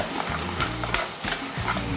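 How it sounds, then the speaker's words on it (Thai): Clam shells clatter and rattle in a wok as it is tossed and stirred, over a steady sizzling roar from a burner. "กระดกกระทะแล้ว ได้ยินเสียงฝาหอยกระแทก"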